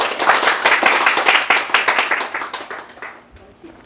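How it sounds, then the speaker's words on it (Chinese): An audience at an indoor talk claps together, the applause dense and loud at first, then thinning into scattered claps that fade out near the end. "我们给他鼓掌一下"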